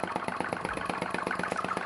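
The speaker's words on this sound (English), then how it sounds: "That popping noise that you hear is the valve opening on just before its exhaust cycle." A small vacuum or atmospheric flame-licker engine runs near its top speed of about 600 RPM, its valve popping in a fast, steady, even rhythm up close, with no talking.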